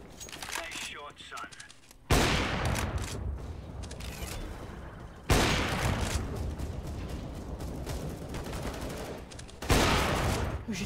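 Bursts of CS:GO gunfire, with three loud, dense volleys of sharp shots starting near 2, 5 and 10 seconds, close and harsh and filling most of the clip, over game noise and a voice.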